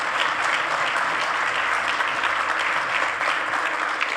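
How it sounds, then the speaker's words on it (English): Audience applause at a sales breakfast, a full, even roar of many hands clapping together that stays steady and loud from start to finish, with no voices standing out. "So if you'd like to give them a round of applause."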